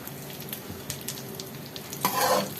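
Peanuts and dry fruits roast in hot ghee with a steady close sizzle and light stirring scrapes, the frying swelling louder near the end.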